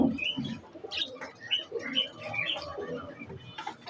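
Pigeons kept in a collection for sale coo and chirp close by, soft overlapping calls repeating in short bursts with faint rustling.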